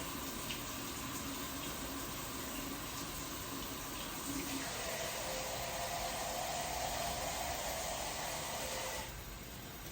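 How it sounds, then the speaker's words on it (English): Water runs from a tap in a home kitchen, a steady hissing flow lasting several seconds, its pitch shifting as the stream changes before it cuts off near the end. "Getting some water."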